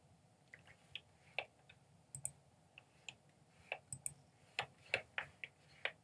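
A computer mouse or buttons click sparsely and then more quickly while a fader on an AKAI MPK249 is mapped in MPC Beats, producing light, quiet, irregular ticks in a near-silent room.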